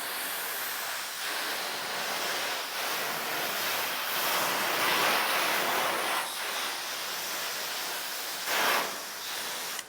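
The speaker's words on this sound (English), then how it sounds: "We'll rinse it off." Water from a hose rinses across a car panel, a broad, continuous hissing spray heard close, with swells and dips in strength as the stream moves, and no talking.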